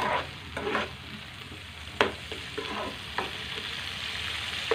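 Ginger garlic paste sizzles in a pan with a moderate, steady frying hiss, interrupted by a few scraping stirs and one sharp tap of a utensil.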